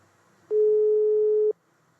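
A French telephone ringback tone on a call to the La Poste press office: one steady, clear electronic tone lasting about a second, with quiet line hiss before and after.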